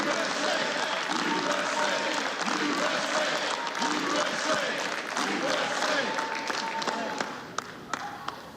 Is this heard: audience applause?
yes